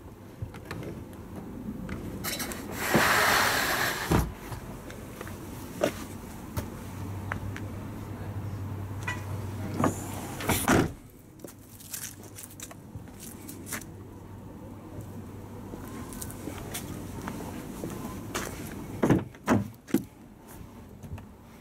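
Electric rear windows in a Vauxhall Zafira Tourer: a steady, low motor whir runs for a few seconds, pauses, then runs again, with soft thumps and clicks at the start and end, close up and alone.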